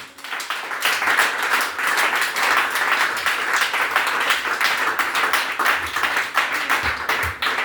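A church congregation applauds during a sermon, a full, sustained burst of many hands clapping that fills the room at close range, with no clear speech.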